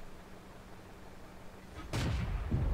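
A tank's main gun fires once in a tank video game: a quiet low hum, then one sudden heavy boom near the end that rumbles on briefly.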